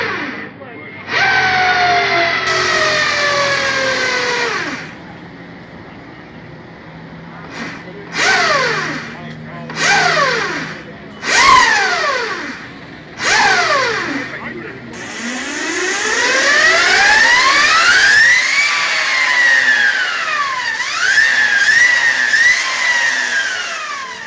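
A Lightning LS218 electric motorcycle revs through a sound check, its motor whine sweeping up and down in pitch over several loud, separate bursts before building to a long, continuous wailing rise and fall.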